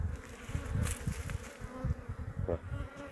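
Honey bees buzzing close around a hive during the honey harvest, a continuous low hum with individual bees flying past the listener.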